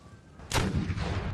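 French cannon open fire on a small dragoon regiment in an 1809 Napoleonic battle: one loud, close boom bursts out after a short quiet lead-in, followed by a rumbling, rolling tail.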